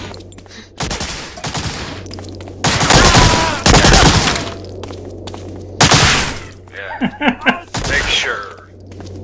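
Gunfire in Medal of Honor Frontline rings out in loud, sharp bursts and rattling volleys, with a steady low hum beneath and a voice talking briefly between shots.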